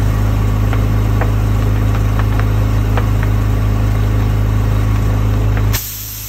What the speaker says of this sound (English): This is the sound you hear before a tire is about to explode.